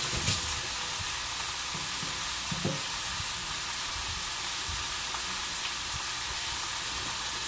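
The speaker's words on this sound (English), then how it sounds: "So, I got the meat in the skillet ready" Ground meat sizzles steadily in a skillet, a constant crackling hiss with a few soft scraping stirs near the start, close and moderately loud.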